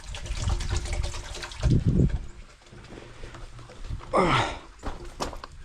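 Water from a 1 horsepower pump pours into a small tank with a steady splashing rush, nearby and moderately loud, rising in a few brief surges.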